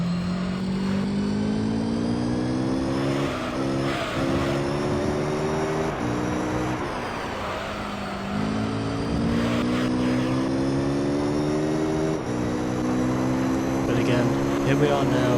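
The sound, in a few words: race car engine in video game Gran Turismo 3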